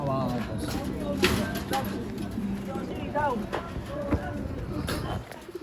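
A prize-winning racing pigeon coos softly in a rooftop loft on the upper floor of a building, with flapping and shuffling, while someone talks over it.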